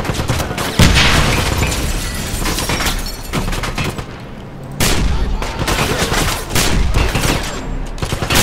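Sustained bursts of automatic gunfire and a grenade blast in the first-person shooter Wolfenstein, loud and dense, with a short lull midway before the firing resumes.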